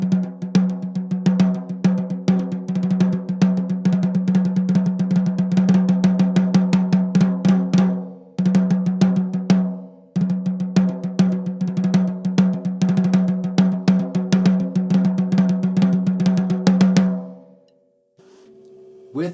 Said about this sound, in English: So without the snare wires it would sound like this.